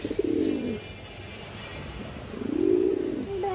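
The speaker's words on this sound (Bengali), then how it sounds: "সবুজ গলা কবুতর" Green-necked pigeons coo in two low, rounded bursts, one at the start and another near the end, close and clear with a quiet pause between.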